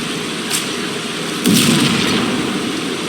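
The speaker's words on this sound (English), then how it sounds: "This is a bomb." Bomb blast in the video game Ario: a broad, dull boom erupts partway through over a steady game background, with a smaller pop just before it and a rumbling tail that fades slowly.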